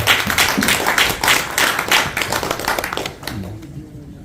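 Applause from a crowd, a dense patter of many hands clapping steadily, tapering off toward the end.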